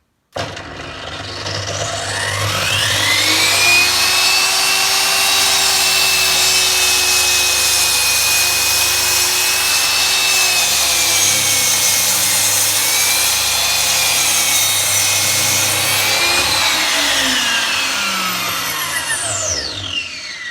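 A 305mm compound mitre saw spins up to a loud, whining buzz, chews steadily through wood for several seconds, then winds down under its electric brake.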